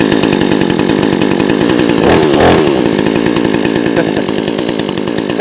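The cheapest chainsaw available on Amazon runs at a constant high-pitched buzz, loud and close, with a brief dip and surge in revs midway and no talking.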